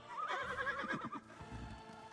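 A horse neighs loudly in the samurai game Ghost of Tsushima, a rising whinny followed by snorting and hoof-like thuds, close and alone without talk.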